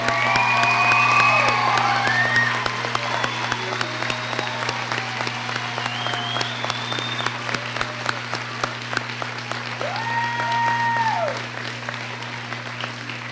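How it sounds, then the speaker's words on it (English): Sustained applause from an audience for adult education GED graduates at a 2011 commencement ceremony, steady clapping with scattered cheers and whoops throughout, loud and continuous under a constant low hum. "Let's give them another round of applause."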